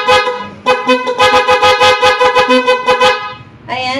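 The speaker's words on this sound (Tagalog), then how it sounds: "meron din po kaming Bosch EC6 Fanfare Compact" A Bosch EC6 Fanfare Compact car horn blares in loud, close honks, one short blast then a rapid series of pulsing tones, a brief pause, and another blast starting at the end.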